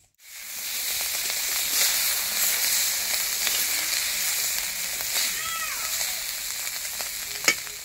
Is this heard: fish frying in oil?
yes